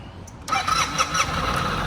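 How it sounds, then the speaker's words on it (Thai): A 2019 Suzuki Burgman 650 ABS scooter with 15,243 km, its engine starting with a short crank and then settling into a smooth, quiet idle close by. "เครื่องยนต์เดินนิ่งเงียบนะครับ"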